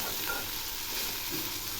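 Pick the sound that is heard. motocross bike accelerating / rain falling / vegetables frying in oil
vegetables frying in oil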